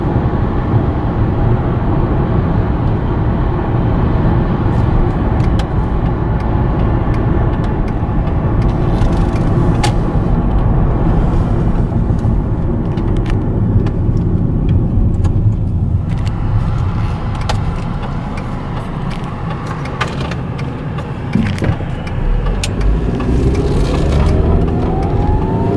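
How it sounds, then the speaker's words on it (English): A 1999 Volkswagen Beetle 2.0 four-cylinder engine hums steadily while driving, a low, even cabin drone with road rumble and no sharp revving, staying fairly constant throughout. "for a cheap 4-cylinder car, I was not expecting the engine to actually be this quiet."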